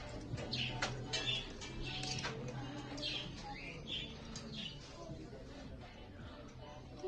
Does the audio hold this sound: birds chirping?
yes